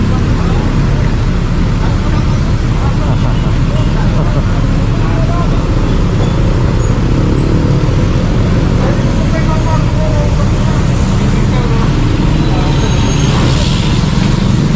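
A heavy tow truck engine rumbles steadily nearby as it arrives, mixed with road and traffic noise, with voices talking over it throughout.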